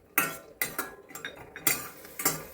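Peanuts being fried in hot oil in a pan for masala chitranna, heard as a series of sharp metallic scrapes and clinks of a spoon against the pan, about six distinct strokes spaced irregularly, close and clear with no talking.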